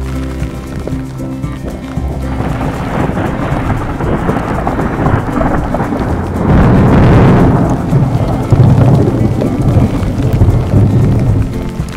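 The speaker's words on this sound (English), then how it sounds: "It's pouring rain, there's thunder and lightning all around." Heavy rain pours steadily while low rumbling thunder rolls through, swelling louder midway and staying close and intense.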